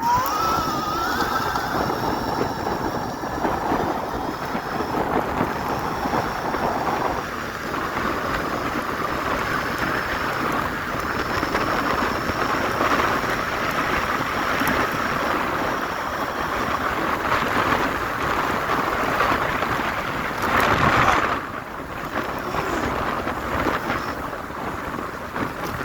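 A Dualtron Storm Limited 2024 electric scooter ridden fast in speed mode 3, with loud, steady wind buffeting the microphone the whole way and a deep rumble underneath, with no talking.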